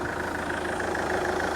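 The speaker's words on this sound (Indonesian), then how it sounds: "Dan ini suara mesinnya." A 2010 Chevrolet Captiva diesel SUV engine idles steadily up close, a smooth even rumble with a faint ticking clatter and no voices.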